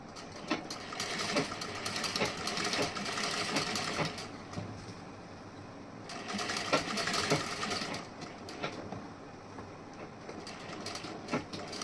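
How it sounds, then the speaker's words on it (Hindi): A sewing machine stitches along the top edge of the joined front panel of a princess-cut blouse: a steady, close whirring run of about four seconds, a pause, then a shorter run, with no talk. "अब ऐसे हमें ऊपर की साइड से सिलाई लगानी है।"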